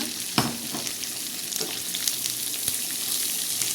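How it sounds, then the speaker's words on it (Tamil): Onions sauté in a kadai, a bright continuous sizzle with a sharp clatter at the start and light stirring scrapes scattered through, close and fairly loud. "இந்த பவுலில் இருக்கிற வெங்காயத்தை கடாயில் சேர்த்துக்கோங்க"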